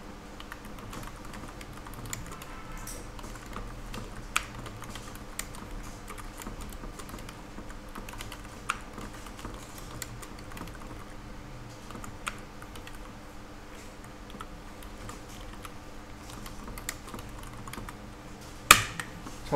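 A computer keyboard clicks with light, irregular keystrokes over a faint hum as values are typed in. A sharper double tap near the end could be an Enter press.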